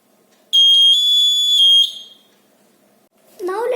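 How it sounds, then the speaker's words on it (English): A homemade battery-powered door alarm beeper, with tape holding it in place, gives one loud, steady high-pitched electronic tone for about a second and a half and then stops. A voice starts speaking right at the end. "When someone comes without you notice, the beeper beeps like this."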